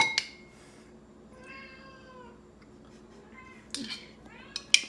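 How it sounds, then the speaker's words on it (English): A cat meows in a kitchen during cooking, giving several short, rising and falling meows at moderate distance, with a few sharp clinks of dishes or utensils near the end. "my cat already thinks this smells delicious"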